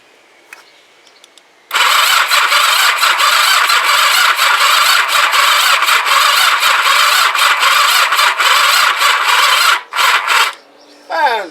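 A Kawasaki GPZ500s motorcycle engine cranks on a flat battery, a loud, continuous grinding starter whir lasting about eight seconds with choke and throttle applied, then stopping abruptly, with brief stutters at the end.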